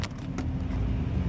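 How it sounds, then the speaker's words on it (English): Cars idling and creeping in a traffic jam on the Hutt motorway near the Petone interchange, a low steady engine rumble heard from inside a vehicle, with a couple of brief clicks and no talking. "You just get stuck in traffic like this."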